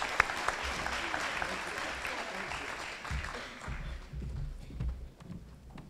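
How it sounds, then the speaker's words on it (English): Audience applause for volunteers at a community grade-level reading campaign event, fairly faint and steady, fading toward the end, with some low rumble and background noise. "So let's give our volunteers a big round of applause."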